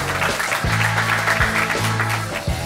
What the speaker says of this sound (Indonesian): Tepuk tangan untuk kita buat